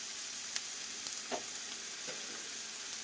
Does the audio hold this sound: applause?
no